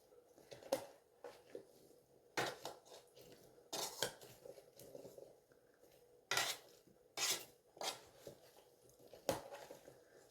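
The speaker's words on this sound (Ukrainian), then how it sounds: "Я все це перемішую добре." Spoon scraping and clinking against the pot of a multicooker while stewed potatoes in milk are stirred: irregular close scrapes and knocks, some sharp, with quiet gaps between them and no talking.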